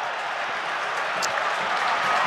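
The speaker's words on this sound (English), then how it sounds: "rather optimistic shout for handball goes up from the fans behind the Elvis end" Football fans at a Maidstone United versus Stevenage match raise a hopeful shout for handball from behind one end, a broad crowd roar with some clapping, steady and distant, with a commentator talking over it.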